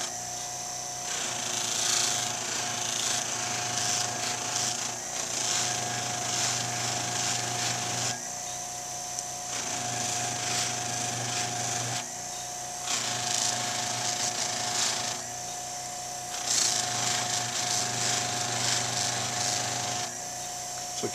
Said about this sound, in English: So red rouge on the buffing wheel, slow speed.